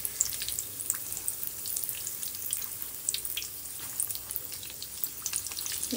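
Mirchi vadas fry in hot oil in a kadhai, giving a steady crackling sizzle full of fine bubbly pops. The sound is close and continuous, with no talking.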